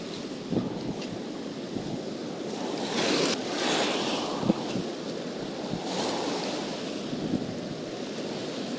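Rough sea waves crash and hiss steadily along the shore where someone is fishing, swelling louder in a few pulses while wind rumbles across the microphone throughout.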